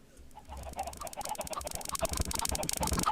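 Many chickens cluck and squawk together on an overflowing automatic chicken farm in the Minecraft video game, a dense, continuous chorus of close overlapping clucks that grows louder after a quiet start.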